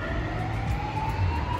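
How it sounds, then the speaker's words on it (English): Police car sirens wail steadily on a Lisbon street as a convoy passes, a continuous rising tone over low traffic rumble, fairly close and without speech. "there was like 5 or 6 police cars that just went past"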